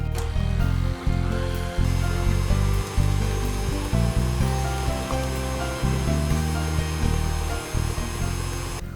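Electric mixer beating eggs into apple snickerdoodle cake batter, a loud continuous motorized whir with brief dips in level, close up and without speech.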